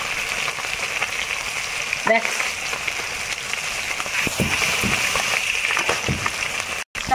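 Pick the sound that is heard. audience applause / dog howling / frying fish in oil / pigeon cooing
frying fish in oil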